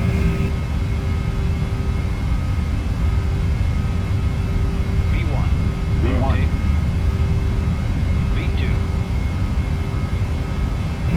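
Boeing 737 jet engines at takeoff thrust in the PMDG 737 flight simulator, a loud, steady roar with a constant whine running through the clip, while voices speak briefly over it.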